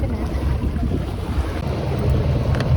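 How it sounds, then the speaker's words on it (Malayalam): A boat nears the shore in the Maldives, with a loud steady rumble of engine, water and wind buffeting the microphone filling the whole moment. "അപ്പോൾ നമ്മൾ ബോട്ട് അടുപ്പിക്കുകയാണ്."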